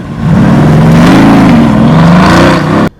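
A turbocharged Mercedes engine revs loud and close, a deep rising and falling growl held for nearly three seconds before cutting off abruptly.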